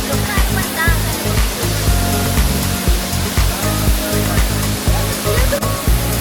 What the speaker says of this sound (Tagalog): Ayan, yung pinaka-falls na talaga.